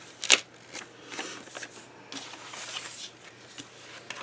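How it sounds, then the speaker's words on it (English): Someone handles a scrap piece of paper at a craft table while making a homemade concertina album: a sharp crinkling rustle near the start, followed by softer shuffling and paper handling close by. "I'm just going to grab a scrap piece of paper"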